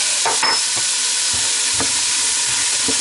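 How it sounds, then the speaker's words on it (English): Cumin seeds, chili flakes and vegetables are stirred in a pot of hot oil for bean chili: a steady sizzling hiss runs throughout, with a few scraping spoon strokes near the start and soft knocks later, close and without talk. "So we're just going to give that a stir and let that cook down till the vegetables all soften"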